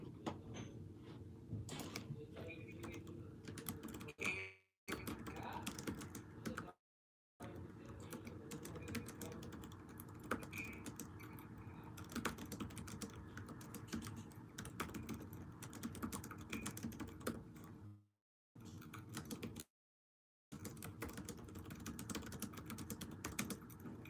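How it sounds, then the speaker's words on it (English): Typing on a computer keyboard during a live stream, a steady run of light clicks and taps going on throughout, with brief dropouts where the sound cuts to silence. "because I was typing away"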